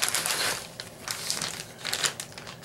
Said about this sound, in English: I have them in a big plastic bag.